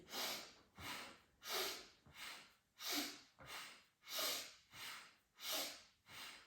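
Deep breathing exercise with slow, deliberate inhales and exhales through the airway, about ten evenly spaced breath cycles, close and clear with no talk.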